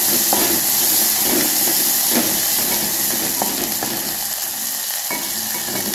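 Green chilli and garlic paste sautés in hot oil with a loud, close, continuous sizzling hiss and a few soft stirring knocks.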